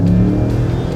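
Holden VY-VZ Commodore with a 5.7-litre V8 driving, a steady low engine rumble heard from close by, without any talk.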